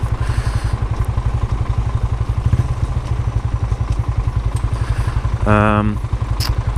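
A Yamaha YBR 125 commuter motorcycle rides along, its single-cylinder engine thrumming in a loud, fast pulsing beat with wind noise, and a short rising horn-like tone near the end.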